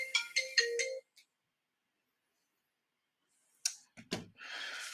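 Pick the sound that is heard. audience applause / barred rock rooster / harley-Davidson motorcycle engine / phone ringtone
phone ringtone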